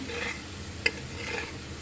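Onion and garlic fry in a pan with a low, steady sizzle, while a utensil stirs them and gives one sharp clink.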